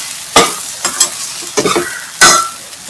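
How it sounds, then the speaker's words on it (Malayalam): Steamed millet and corn flour being stirred into a sautéed mixture in a pan for upma, giving several scraping, sizzling strokes of a spoon against the pan at an uneven rhythm, close and clear with no talking. "ഇനി ഇതെല്ലാം കൂടെ ഒന്ന് മിക്സ് ചെയ്തെടുക്കണം"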